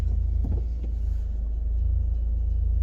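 A 2012 Honda Accord 2.2 i-DTEC diesel engine runs with a steady, deep low rumble and a faint hum, even and unbroken throughout.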